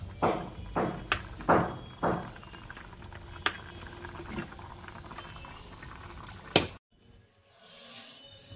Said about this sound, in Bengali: এবার এটা একটু ফুটবে